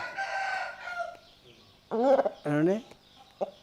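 Roosters of a rare prized fighting breed crow close by, two long loud calls in quick succession after some softer clucking, with a short bird call at the end.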